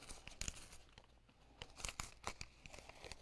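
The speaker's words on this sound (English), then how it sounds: "Okay, so you pull out the paper." Paper being pulled out and torn makes a quiet run of papery rips and crinkles, several short bursts in quick succession up close.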